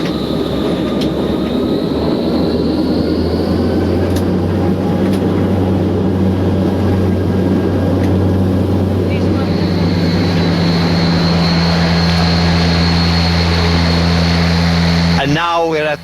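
Steady droning roar of propeller airliner engines in flight toward Amsterdam, loud and continuous with a deep low hum and a whining tone above it, under a voice speaking throughout.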